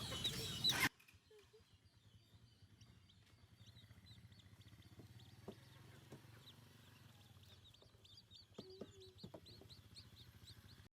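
New chicks on a homestead cluck and cheep softly in scattered bursts, faint and fairly close, after a short loud burst at the start, with occasional quiet background noise.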